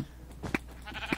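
Two short bleats from a sheep in a Minecraft match on the Mineplex server, each a quick nasal cry about half a second apart, over faint background noise.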